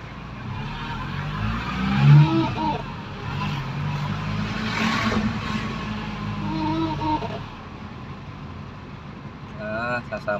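A motorized tricycle drives along a road with a steady, close engine rumble and road noise that rises and falls, while voices talk over it.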